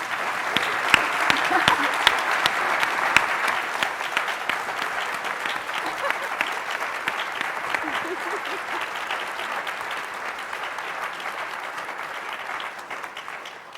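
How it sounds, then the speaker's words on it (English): A convention audience applauds its panelists with steady, sustained clapping that holds at an even level for over ten seconds, a faint voice now and then under the noise. "Can we give our panelists a round of applause?"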